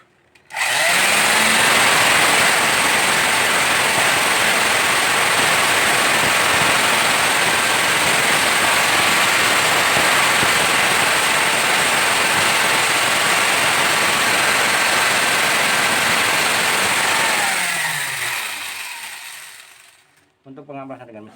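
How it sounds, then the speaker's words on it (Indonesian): A power sander works over a wooden horse bow, a loud, steady whirring hiss running continuously for about seventeen seconds before spinning down and stopping. "Oke, kita lanjut ke tahap pengamplasan dengan mesin."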